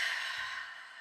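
A single soft, airy exhale during a seated breathing exercise, close and gentle, fading over about a second with no talking.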